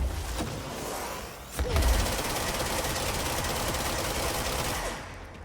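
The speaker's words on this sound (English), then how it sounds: "Oh, you can shoot the orbs" Gunshots in the video game Control, fired at floating orbs, sound as a dense, loud rattling barrage with a heavy thump partway through, continuing steadily before fading at the end.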